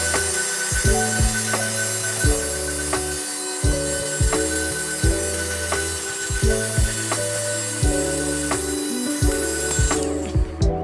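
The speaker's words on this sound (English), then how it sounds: "Now I'm going to show you guys a demonstration on how the Clean My Bricks vacuum works." A Clean My Bricks vacuum clears dust from a Lego Star Wars Rogue One set, heard as a steady close motor hum with repeated clicking, rattling pulses as the nozzle works over the bricks.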